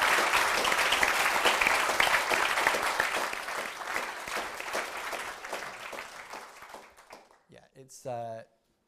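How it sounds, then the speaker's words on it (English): Audience applause for panelists at a psychology of influence event, steady dense clapping from a large room that gradually thins out, followed by a brief spoken voice. "Would you all put your hands together and give a warm round of applause for our panelists?"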